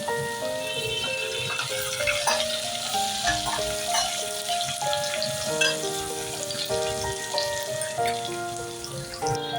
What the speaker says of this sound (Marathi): लसूण भरपूर असा घेतलेला आहे आपण सोबत घालतोय आठ ते नऊ कडीपत्त्याची पाने